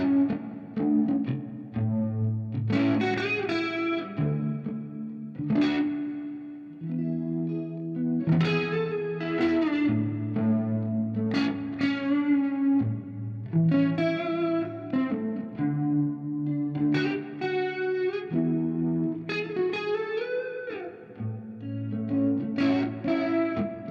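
An electric guitar patch runs through a Hotone Ampero Mini multi-effects pedal with no amp, played as a melodic song part with chorus shimmer, light distortion and echo tails, steady and up close with no voices.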